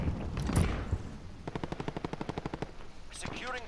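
Rapid gunfire in Call of Duty Modern Warfare, a burst of about fifteen evenly spaced shots in a steady rhythm, loud and close, with noisy game action before it and a brief radio-style voice at the end.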